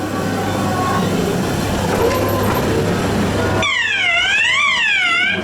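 A loud, steady rumble of ghost train ride cars rolling on a track at Blackpool Pleasure Beach, then a warbling electronic siren sweeps up and down over the clatter.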